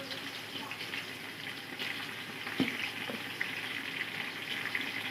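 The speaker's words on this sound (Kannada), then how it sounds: "ಈರುಳ್ಳಿ ಫ್ರೈ ಆಗ್ತಾಯಿದೆ." Onions frying with chopped mint leaves in a pan while preparing chicken biryani, giving a steady, dense sizzle that continues throughout, with a couple of soft knocks.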